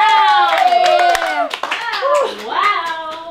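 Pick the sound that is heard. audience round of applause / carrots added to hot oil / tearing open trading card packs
audience round of applause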